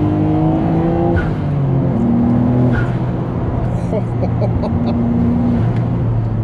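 The RB26 six-cylinder engine of a Nissan GTR R33 with a 400R kit making 450 hp revs loudly from inside the car, its pitch repeatedly climbing and dropping through the gears, with someone talking over it.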